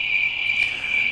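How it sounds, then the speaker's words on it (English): Crickets chirp in a steady, continuous high trill, loud and close, running unbroken from start to finish with no voices over it. "there's the crickets"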